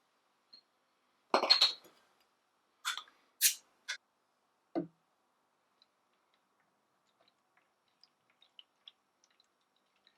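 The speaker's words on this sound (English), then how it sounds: "So let me get the lids off those real quick." Beer bottle lids come off in a few short metallic clinks and pops, close and isolated, followed by near silence with tiny faint ticks.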